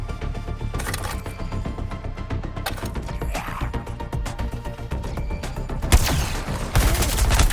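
Rapid gunfire in Suicide Squad: Kill the Justice League, sustained crackling volleys of shots over several seconds, growing louder with heavier bursts near the end.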